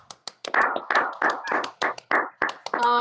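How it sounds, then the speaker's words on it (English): An audience on an online video call claps through their microphones for a guest speaker, a quick run of uneven, close claps and taps that keeps going, with a short cheer near the end. "give her a big round of applause for Zoe Ponterio"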